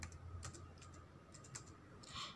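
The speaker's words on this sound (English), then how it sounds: "you can see here I am typing. Okay, this is called typing." Keys clatter on a computer keyboard while a document is typed in MS Word, quick irregular taps in short bursts, close and fairly quiet, with no voices.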